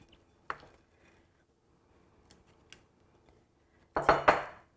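Metal muffin tin filled with batter being handled: a few sharp clanks and taps, one near the start and a louder cluster at the end, separated by quiet faint clicks.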